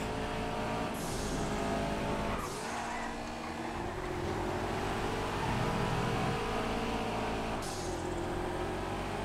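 A rear-wheel-drive car racing in GTA FiveM: its engine revs hard and loud through several sharp gear changes, with brief lifts off the throttle between bursts of acceleration.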